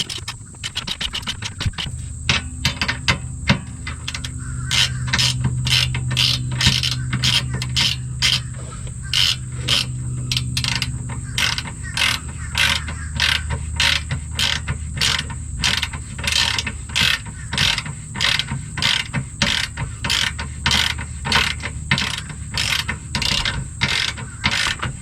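Ratchet wrench clicking rapidly on 16 mm bolts of a subframe brace on a 2019 Mustang GT, steady bursts of metallic pawl ticks close up with a low hum underneath and no talk.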